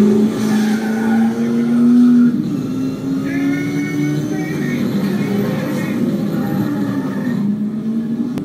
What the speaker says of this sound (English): member of the Ford family, trying this car with Carroll Shelby